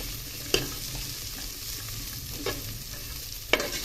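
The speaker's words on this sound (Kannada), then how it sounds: "ಸ್ವಲ್ಪ ಸಿಮ್ಮಲ್ಲಿ ಇಟ್ಬಿಟ್ಟು ಒಂದು ನಿಮಿಷ ಫ್ರೈ ಮಾಡೋಣ" Cluster beans fry gently in oil over a low flame, giving a soft steady sizzle with three sharp clicks of a utensil against the pan, close by and with no talking.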